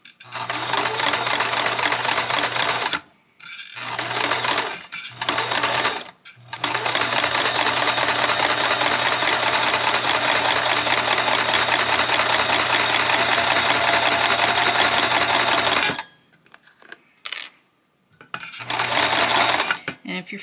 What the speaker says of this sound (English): I can control the speed of my sewing machine a little bit better by sewing with